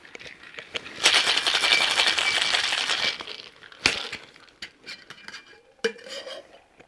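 Ice rattles hard inside a cocktail shaker while a cherry liqueur drink is mixed, a dense rapid clatter for a couple of seconds, then scattered clinks and knocks as it settles.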